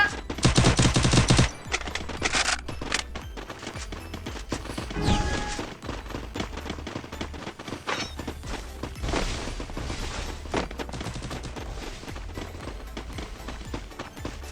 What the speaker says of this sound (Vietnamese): Nhìn mấy đứa kia bắn chán ghê á, nhìn bắn UMP nữa